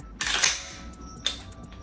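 Two sharp mechanical clicks from a dry-fired handgun trigger, the first near 0.2 seconds and the second around 1.25, each short and close over a quiet room background.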